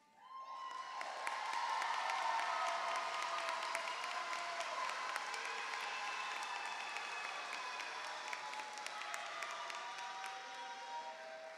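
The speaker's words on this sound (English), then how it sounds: "I would like all recipients of the Say Yes to Education Scholarship to please stand." Applause with some cheering rises from the crowd at a 2025 high school graduation for scholarship recipients, swelling quickly and holding steady at moderate volume for several seconds.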